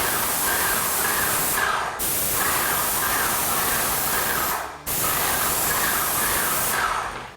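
A paint sprayer priming wood panel walls hisses in long, steady, loud bursts, with three brief cutoffs where the trigger releases between passes.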